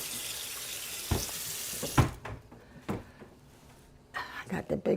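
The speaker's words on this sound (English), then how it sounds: "I want to put a little cold water in that" Cold water runs from a kitchen tap into a sink for a while, then stops, followed by scattered clatter and handling sounds at close range, with speech nearby.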